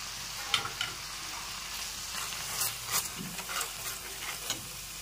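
Spice masala with Kashmiri and hot chilli powder, turmeric and salt being sautéed in a pan for a fish curry, a gentle sizzle broken by repeated light scrapes of the spatula, close up with no voices.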